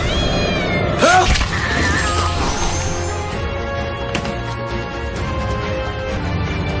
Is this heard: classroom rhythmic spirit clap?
no